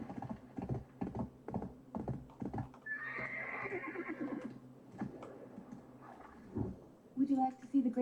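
A horse in the video game Throne and Liberty gives a long, clear neigh and whinny in the middle of the clip, with clip-clop hoofbeats and someone talking around it.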